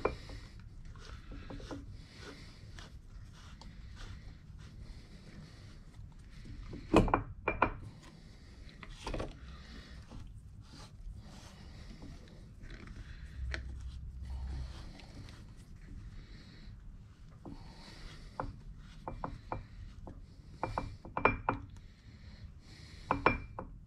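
Bearing cap bolts are tightened on a Ford 9 inch differential during a ring and pinion install, giving scattered ratcheting clicks and metallic knocks over a low workshop background, with sharper clacks every few seconds.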